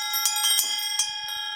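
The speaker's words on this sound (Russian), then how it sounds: "Колокольчики подбирали мы с отцом долго." Several hand-picked small bells hung in a Siberian village in Buryatia's Barguzin valley ring together, bright overlapping strikes every few tenths of a second over a steady shimmering tone, close and clear.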